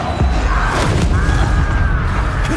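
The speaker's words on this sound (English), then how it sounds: "Expelliarmus!" Expelliarmus disarming spell cast in Hogwarts Legacy during a wizard duel, a booming magical burst with a heavy thud and crackling shimmer, followed by whooshing spell effects at close range.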